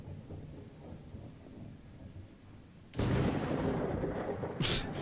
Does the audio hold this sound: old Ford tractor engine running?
no